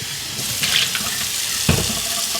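Tap water runs steadily into a sink to rinse out a brewing flask that has sat unused, a continuous close hiss with a brief splash or clunk partway through, no talking.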